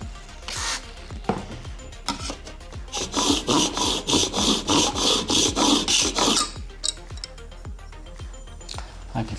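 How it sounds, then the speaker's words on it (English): Steel blade being hand sharpened in a honing guide kit, rasping strokes across a stone: irregular scraping at first, then a steady run of about ten rhythmic back-and-forth strokes, close and fairly loud, with light clinks afterwards. "So I will make a few strokes or take a few strokes, feel for a burr"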